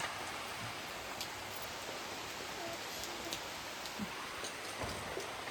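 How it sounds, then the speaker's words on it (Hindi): Heavy rain falls steadily outdoors at night, a continuous soft hiss with scattered drips and patters, fairly faint and without voices. "कभी इतनी बारिश आ जा रही है"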